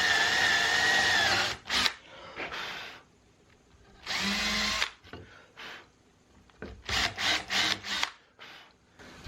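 A power drill whirs in several bursts into wood, starting and stopping, with short rapid pulses near the end; close and loud.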